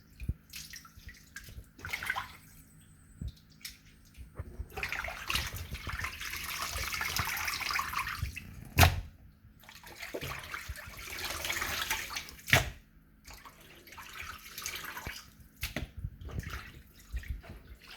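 Running water from a tap rinsing goat meat in a sink, surging and easing in swells with splashes, handling knocks and a couple of sharp clunks, close and without speech.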